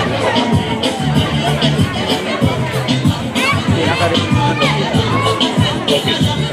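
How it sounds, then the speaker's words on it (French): A school crowd at an end-of-year prize ceremony claps and cheers for pupils, a loud, close, dense burst of clapping mixed with shouts and voices throughout. "Merci de les applaudir."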